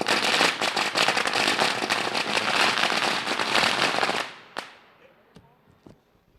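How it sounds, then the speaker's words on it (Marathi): Dense firecracker barrage at an outdoor stage event welcoming a guest during a cricket tournament, a continuous loud crackle of rapid bangs that stops abruptly, followed by a few isolated pops fading into quiet. "फटाक्यांच्या आतिषबाजीमध्ये"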